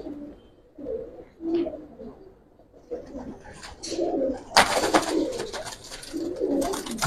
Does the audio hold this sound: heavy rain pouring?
no